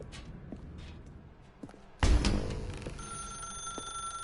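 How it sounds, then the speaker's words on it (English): A telephone rings in The Stanley Parable video game, a bright electronic bell tone that starts sharply after a soft thump, sustained and fairly close over low room ambience. "Now pick up the phone, said the bucket."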